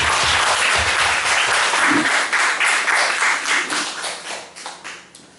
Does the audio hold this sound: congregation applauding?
yes